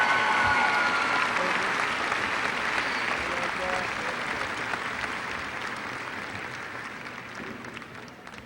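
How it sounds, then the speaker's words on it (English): Sustained applause from a large audience at a high school graduation ceremony, steady and loud throughout, gradually tapering slightly toward the end. "A round of applause for Joana."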